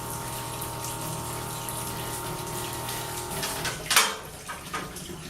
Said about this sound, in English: Turn down the pump on our distilled water.